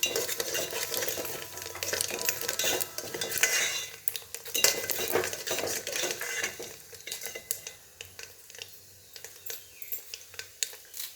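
Chilies and dal being sautéed in a bronze pot for rice upma, with a spoon scraping and clinking against the metal in steady stirring strokes over a soft sizzle, close and moderately loud.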